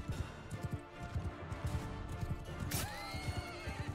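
A horse neighs in the battle game Mount & Blade II: Bannerlord, a whinny amid rapid thudding hoofbeats and clashing noise, moderately loud, followed by a ringing crash.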